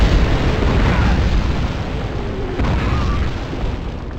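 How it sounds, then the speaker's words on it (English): Mortar shells burst in a Call of Duty battle, a loud, continuous rumbling roar of explosions with dense debris noise, fading slightly toward the end. "Mortars!"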